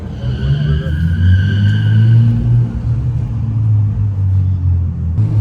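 A car's engine rumbles loudly from inside the cabin on the way to a Tokyo drifting venue, a deep steady drone with a slight swell partway through, and no voices.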